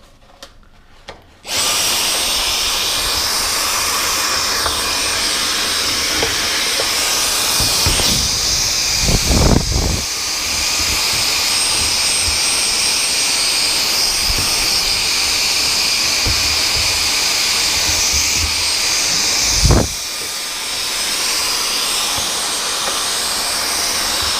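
A vacuum suctioning lint out of a clothes dryer vent, a loud, steady high-pitched whine that starts abruptly after a quiet moment and holds throughout, with a few brief surges and clunks as the hose moves.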